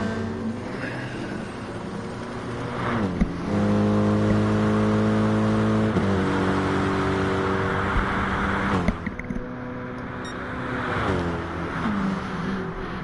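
Race cars, a small Peugeot and a baby blue BMW, battling around Mount Panorama: loud, near engines rev hard with sweeping gear changes and one car roaring past, alone without talk.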